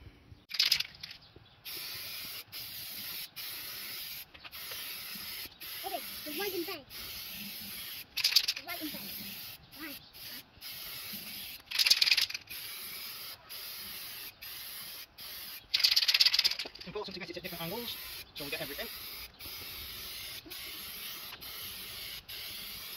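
Clear lacquer is sprayed from an aerosol onto campervan wheels in short, hissy bursts. Quiet mechanical clicks and handling noises fill the gaps, and a voice talks faintly at times.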